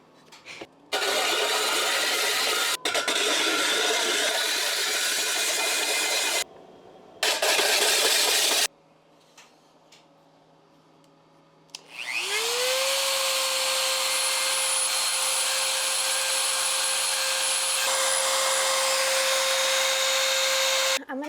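A power grinder works the bottom of a two-foot ceramic mushroom sculpture, a loud, harsh grinding roar that cuts out twice and briefly drops away, then spins back up into a steady, high whining drone.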